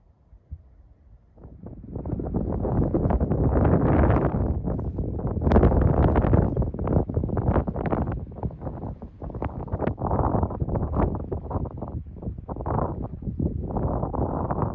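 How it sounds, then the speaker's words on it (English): Strong wind roars steadily across the microphone on the open mountain summit of Beauty Spot along the Appalachian Trail on a cold day, gusting in waves for the whole stretch with no talking. "too windy to stop for lunch up here on top of the, this is called Beauty Spot"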